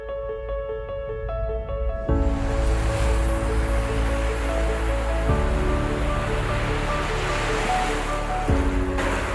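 Ocean waves surge and break on a beach, a steady wash of surf rising after about two seconds and rolling on continuously, heard over a sustained musical bed with no speech.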